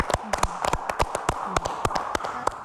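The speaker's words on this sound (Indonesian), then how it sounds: "tepuk tangan dong." A scattering of hand claps rises from an audience at a health talk, irregular and fairly close, mixed with talking voices and a dull background hum.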